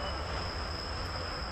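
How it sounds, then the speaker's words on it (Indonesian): An airport rail link train runs with a low, steady rumble and a faint high whine, heard from inside the carriage at a quiet, even level. "Ini pertama kali saya naik kereta jalur bandara."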